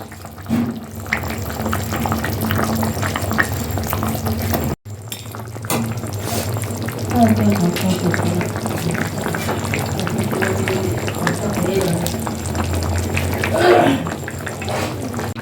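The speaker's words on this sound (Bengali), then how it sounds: "এবার ভালো করে আমি পাঁচ মিনিটের মতন ফুটতে দেবো" Masoor dal boiling steadily in a pot while village-style cooking, a continuous bubbling simmer with occasional clinks and soft splashes, close and moderately loud, with a short break partway through.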